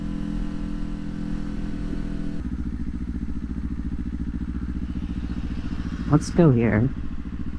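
Motorcycle engine rumbling steadily at a low idle-like drone, then a brief rising rev blip as a downshift is rev-matched, with a rider's voice speaking briefly over it.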